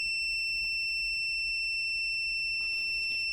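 A steady high-pitched continuity beep from a BSIDE U1 mini clamp multimeter with its test leads touched together, sounding as a constant tone alone with no talk.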